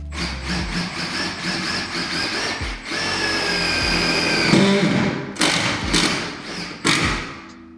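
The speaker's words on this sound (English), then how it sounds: "these self-tappers aren't the easiest thing to kind of drill through this wood and into the metal" Power drill driving self-tapping screws through OSB wood sheathing into a metal frame, a steady loud whirring grind that strains and labors, broken by brief pauses and thumps as each screw seats.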